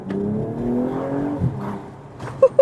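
BMW M240i exhaust rising through a moderate rev and easing off, close by, followed by a short quieter pause and a couple of brief sharp pops or blips at the end.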